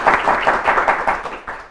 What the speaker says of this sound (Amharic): እሺ በደንብ አድርጋችሁ አጨብጭቡላችሁ።